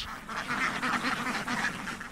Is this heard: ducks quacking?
yes